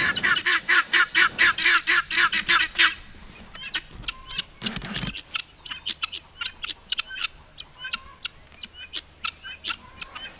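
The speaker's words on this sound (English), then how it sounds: "Oh, those guineas." Guinea fowl calling on a homestead garden: a rapid run of loud, harsh, rhythmic cackles, then scattered squawks and chirps that carry on at a lower level, with no one talking.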